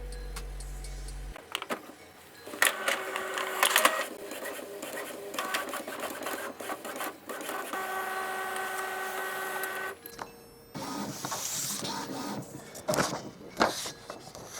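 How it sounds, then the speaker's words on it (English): An Epson Expression Home XP-4150 inkjet printer runs a nozzle check page: close mechanical whirring and rattling carriage passes with clicks and feed noises, heard alone with a short pause near the end before the motor starts again. "your printer will be offering to print you a nozzle check, which is like a test page for the machine"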